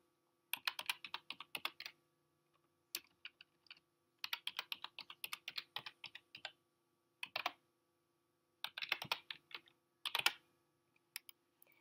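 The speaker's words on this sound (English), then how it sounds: "So, I just type random letters." Random letters typed on a computer keyboard in quick clustered bursts of crisp, close key clicks separated by short pauses in a quiet room.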